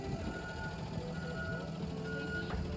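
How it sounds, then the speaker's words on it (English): A large vehicle's engine rumbles steadily nearby with traffic noise, and a brief beeping tone sounds near the end. "There's the bus"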